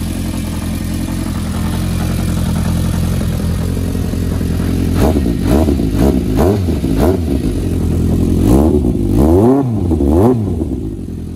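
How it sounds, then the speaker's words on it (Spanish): A Honda CB1100R motorcycle engine idles steadily and close by, a low continuous rumble, then takes several short throttle blips in the second half that rise and fall in quick succession. "Ya veis que el ralentí lo aguanta perfecto"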